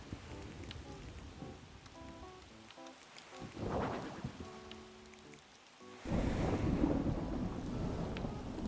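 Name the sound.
thunderstorm and rain in Animal Crossing video game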